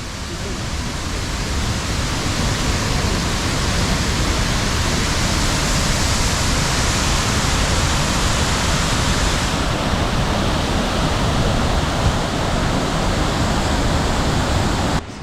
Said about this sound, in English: Same waterfall, different perspective.